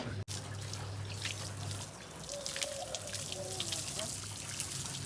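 Water trickles and splashes softly as clothes are worked by hand, a steady wet sloshing with faint background noise.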